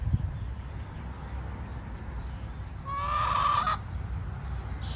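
A hen clucks in a backyard coop, one drawn-out, strained call rising near the middle, fairly close, over a low steady outdoor hum with insect-like high tones and faint scattered noises.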